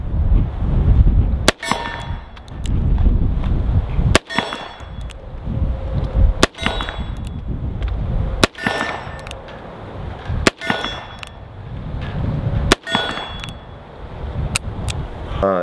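Colt Python revolver fired at steel targets 30 yards away: seven sharp shots at irregular intervals of about two seconds, each a loud crack followed by a ringing clang of steel, over steady outdoor background noise.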